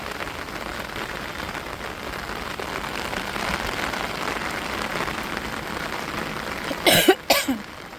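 A couple of short coughs from a person with a cold near the end, after a long stretch of steady rain pattering on a surface.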